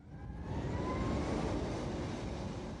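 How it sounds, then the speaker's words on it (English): A continuous broadband roar from Blue Angels jet fighters flying at an air show swells in and holds steady, loud and unbroken for a few seconds with no voices. "They're the Blue Angels, 6 high-performance jet fighters, capable of speeds almost twice the speed of sound."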